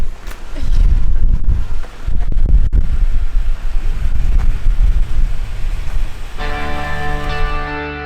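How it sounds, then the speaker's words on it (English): Wind gusts against a rooftop tent at an off-road campsite, a loud, steady, buffeting roar throughout; a low tonal hum joins in the last couple of seconds. "Tent blowing in the wind."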